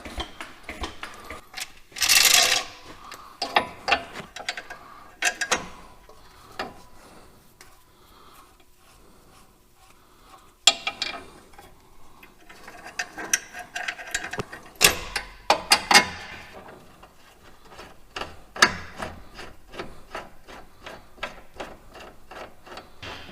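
Jack lowering a broken transmission under a Cummins-swapped Excursion, heard as close, intermittent ratcheting clicks and mechanical clatter in bursts, separated by quieter pauses.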